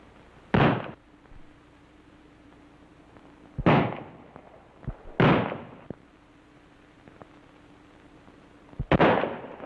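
Gunshots fired at men in an old western, heard as four sharp, loud cracks spaced a few seconds apart, each with a brief echoing tail over a quiet background hum.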